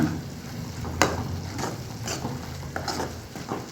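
Ground tomato and vegetables sautéing in a pan: a soft, steady sizzle with several spoon-scraping stirs and light clinks, close and fairly quiet, without talk.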